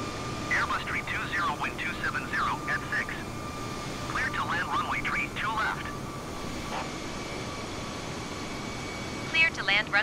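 AirAsia Airbus A320 airliner coming in to land, a steady broad roar held throughout beneath talk and automated callouts in the cockpit.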